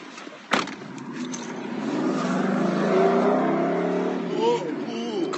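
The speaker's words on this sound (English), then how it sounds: "Cool car, bro." A car approaches and passes with a broad rushing engine and tyre noise that swells to a peak midway and then fades, while voices murmur nearby.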